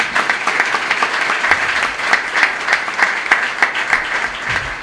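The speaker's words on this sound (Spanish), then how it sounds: "es un médico, un aplauso para él." Audience at a socio-environmental forum applauding a doctor, a steady patter of many hands clapping at moderate loudness throughout, with no talk over it.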